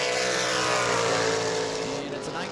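A super late model race car screams past on a qualifying lap at New Smyrna, a loud sustained high-revving engine roar with an announcer talking over it.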